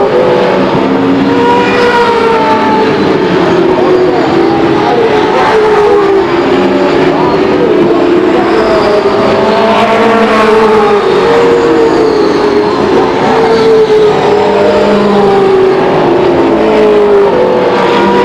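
Race cars roar around the Lake Geneva Raceway oval in a 1993 feature race, a loud, continuous drone of engines revving and shifting in pitch as the pack of cars circles the track, with no pause for the full length.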